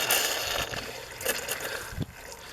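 Water and trapped air spit and sputter from a faucet in an Aliner trailer during winterizing, with uneven gurgling bursts and splashes over a running-water hiss, close by and moderately loud.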